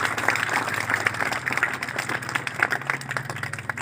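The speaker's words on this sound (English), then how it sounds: "You also deserve a round of applause" A round of applause for prize winners at a prize distribution ceremony, brisk crowded clapping continuing throughout, with a low steady hum beneath.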